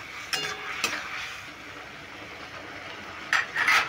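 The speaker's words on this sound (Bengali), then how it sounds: "একটু জল দিয়ে আমি কষিয়ে নেবো" Spices with gobindobhog rice and mung lentils being sautéed in a pan with a splash of water, a soft steady sizzle under a few sharp scrapes of a spoon against the metal near the start and end.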